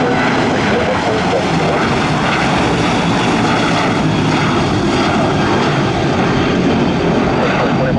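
A large jet airliner rolls on the taxiway at Tampa airport just after landing, its engines giving a loud, steady broadband roar close by that holds for the whole stretch.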